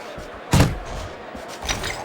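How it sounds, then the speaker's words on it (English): A single heavy punch landing in Fight Night Champion boxing, a sharp close thud standing out from the crowd ambience, with a lighter second impact shortly after. "Good step back counter punch there."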